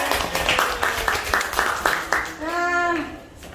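Audience clapping at a presentation about Evopedia, a run of sharp, fairly regular claps lasting a couple of seconds. A voice talks before and alongside it.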